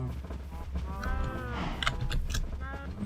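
Cows mooing in Minecraft on a farm with around a hundred penned cattle, several overlapping low, drawn-out moos at moderate distance under a quiet background.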